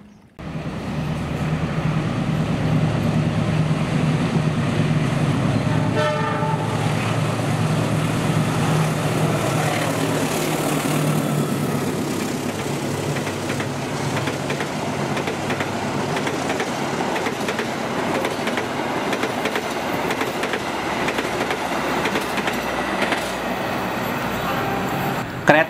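Argo Cirebon passenger train passing at Bekasi Timur, Indonesia: a loud, continuous rumble of wheels and carriages close by, with a brief horn-like tone early on and steady rail noise filling the whole stretch.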